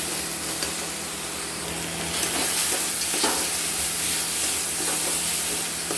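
Spice paste with ground cumin, coriander and a little turmeric frying and being stirred for banana flower chops, a steady close sizzle with soft stirring scrapes that grows slightly louder partway through.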